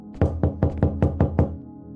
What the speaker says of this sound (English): Somebody's banging on the door.